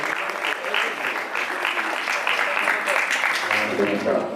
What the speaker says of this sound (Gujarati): આપણે તાળીઓ ના પાડીએ